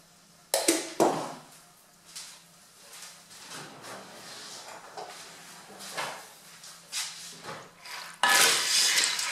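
Pasta, ham, water and milk are stirred in a Cookeo pot, giving intermittent clatters, scrapes and knocks of a utensil against the pot with quiet gaps between.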